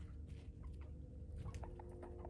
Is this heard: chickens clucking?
yes